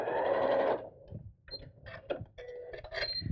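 A sewing machine stitches a purse organiser in one loud, steady run of rapid stitching, then slows into a few short bursts and mechanical clicks.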